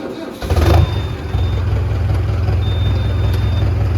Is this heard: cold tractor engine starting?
yes